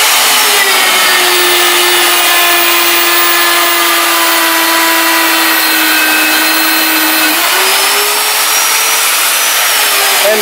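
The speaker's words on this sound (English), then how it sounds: "Simply line up the hole, place it into position, turn on the drill." A loud, steady whine of an Alfra/Maglogix SP series magnetic drill boring into thin angle iron, with a sustained grinding hum that shifts pitch slightly near the end.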